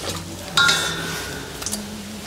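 A spoon stirs bobo chicken (bobo ji) in a pot over a big wood-fired flame, making a sharp scrape and clatter, then softer rustling over a low simmering bubble, close by with no voices.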